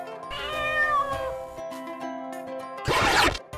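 A cat meows in a long drawn-out wavering call, then gives a shorter harsher burst near the end, close and clear with no speech.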